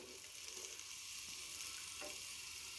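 Onions fry in three tablespoons of hot oil in a pan, giving a faint, steady sizzling hiss with a few soft stirring scrapes and no voices.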